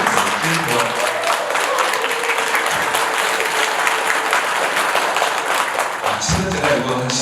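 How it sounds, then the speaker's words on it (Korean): Loud audience applause with scattered cheers at a Buddhist college precept ceremony, continuous dense clapping with brief vocal shouts rising near the end. "삭막한 세상에 이럴 때 박수가 크지. 환호도 해놓은 것 같습니다"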